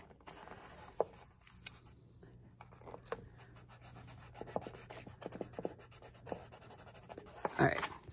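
Paper strips on a handmade paper fruit-slice weaving loom get tape pressed onto the back, with soft rubbing, scratchy handling and small clicks close by, ending in a brief louder crinkle.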